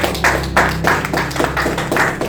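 A church congregation claps rhythmically to acclaim the Lord, with about eight steady, loud, even claps in quick succession that fill the room.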